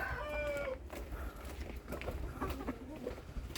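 Roosters clucking and murmuring in a noisy farmyard, with a brief crow-like call at the start, moderately distant under steady background noise.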